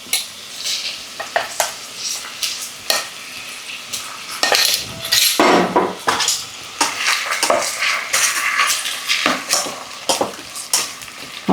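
Onion, tomato and ginger-garlic paste sautéing in a pan, with repeated stirring scrapes and utensil clinks over a steady sizzle, close and fairly loud with no talking.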